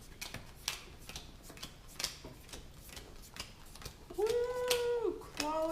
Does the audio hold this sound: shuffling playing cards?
yes